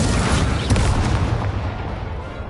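A heavy, booming blast as the Incendio fire spell hits in the Hogwarts Legacy video game, loud and close with a roaring rumble that slowly tails off.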